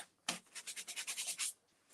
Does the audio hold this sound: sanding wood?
yes